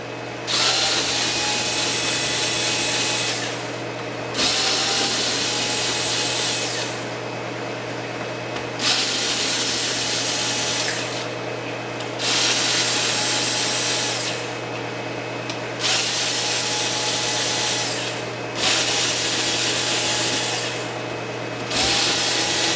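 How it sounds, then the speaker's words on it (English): A power screwdriver backs screws out of an HPI Savage RC car transmission, whirring loudly and close in about six long bursts separated by short pauses. "So there's a bunch of screws in the back here, all around it, so we'll start taking those off."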